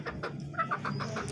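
Two live desi village chickens, one a rooster, cluck in a quick series of short, close, fairly soft calls with no talking.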